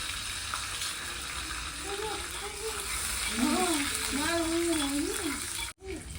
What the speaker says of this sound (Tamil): அதுக்கப்புறம் நம்ம சாம்பார் வெங்காயம் கருவேப்பிலை போட்டுடலாம்